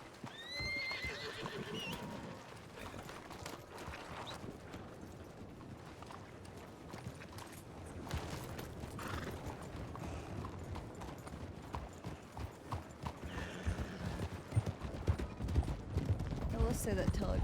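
Horse hooves clip-clopping and repeated whinnies from a western roleplay video game, steady and fairly close, with players talking over much of it.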